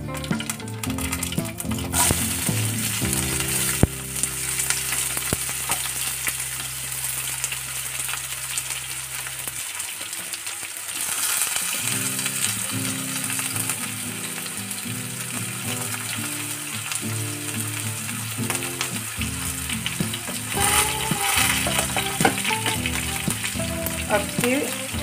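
Onion and tomato frying in a pan for egg bhurji, a steady close sizzle with stirring and scraping over a droning background hum throughout.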